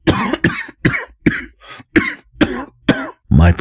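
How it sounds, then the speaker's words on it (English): Eight or so harsh, rasping coughs burst out in a steady series, close and loud, with short gaps between them and no talk. "How long have you had that cough?"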